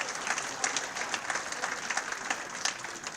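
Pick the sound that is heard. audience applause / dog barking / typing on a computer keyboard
audience applause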